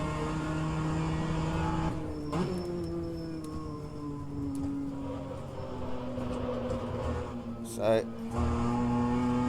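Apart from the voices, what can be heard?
BMW M2 CS engine accelerating at full throttle, rFactor 2 video game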